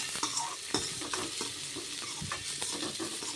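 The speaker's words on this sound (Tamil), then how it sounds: "வெங்காயத்தை வந்து நல்லா ப்ரௌன் கலரில் வர்ற வரைக்கும் நம்ம வந்து வதக்கி எடுத்துடலாம்" Onions sautéing in hot oil while being stirred, with a bright crackling sizzle punctuated by frequent scraping knocks of the spoon against the pan, close and busy, with no talk.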